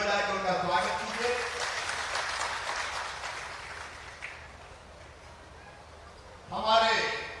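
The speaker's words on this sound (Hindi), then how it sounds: "एक बार ताली बजा के उनका स्वागत कीजिए।" A crowd claps to welcome a party state president at a BJP statue unveiling in Hatpipliya, a broad wash of applause under a voice over the loudspeaker, fading before he speaks again.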